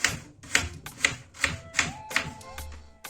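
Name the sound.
knife chopping onion into small cubes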